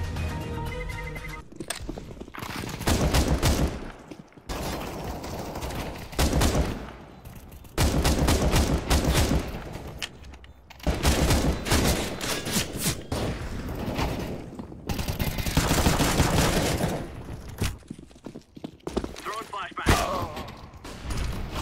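Gunfire in the video game Counter-Strike: Global Offensive comes as loud, dense bursts of rapid shots, footsteps and thuds, broken by a few brief lulls and continuing through most of the stretch.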